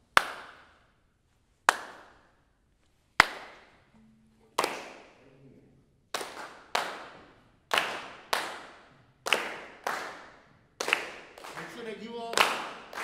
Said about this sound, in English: I want you all to do just the one clap.